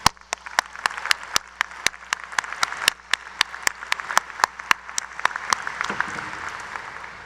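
Applause at the University of Cincinnati's 2013 new student convocation: one sharp, close clapper keeps a brisk, even beat over a softer crowd of clapping that swells and carries on for about seven seconds.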